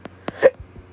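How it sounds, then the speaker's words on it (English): A single short, sharp hiccup sounds close up, with a few faint clicks and soft noises around it and no talking. "Hiccups."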